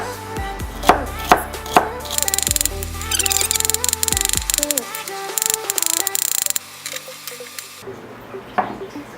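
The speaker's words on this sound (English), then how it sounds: "I'm just going to take the celery and just chop this into small pieces" A knife chops celery into small pieces on a cutting board for a vegan noodle soup, a few distinct chops followed by a fast, steady run of close, crisp strikes, then a pause and one last cut.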